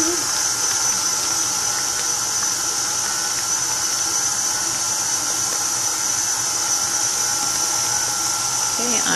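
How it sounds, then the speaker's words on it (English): An electric mixer beats low carb cheesecake batter with a steady, loud whirring hum that holds unchanged from start to finish. "I'm going to stop the mixer"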